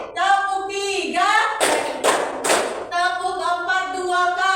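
Three sharp hand claps in quick succession during a counted classroom clapping game, loud and close, with a teacher's voice speaking before and after them.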